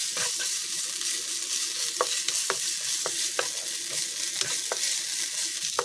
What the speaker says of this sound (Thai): 3เกลือก็จะเป็นกระเทียมพริกไทยรากผักชีนะคะผัดให้หอมเลยค่ะ